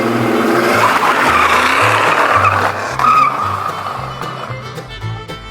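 A 1965 Pontiac GTO does a smoky tire burnout: a loud engine roar under continuous tire squeal and skidding, easing off slightly toward the end, with no talk.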